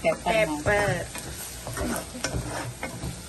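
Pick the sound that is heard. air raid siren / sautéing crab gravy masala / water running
sautéing crab gravy masala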